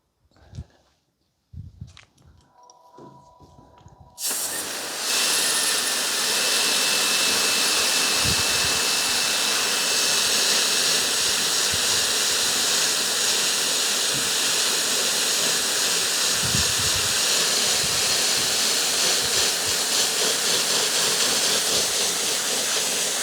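After some brief handling noises, a loud, steady rush of heavy simulated rain hisses continuously onto a K&F Concept Alpha 25L backpack without its rain cover, like a downpour drumming on fabric close by.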